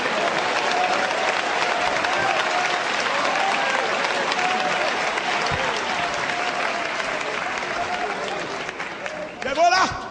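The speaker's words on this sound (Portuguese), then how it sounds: "e aplauda ele." A church congregation applauds at a Pentecostal service, steady dense clapping filling the room for about ten seconds, with some voices and a brief rising vocal sound near the end.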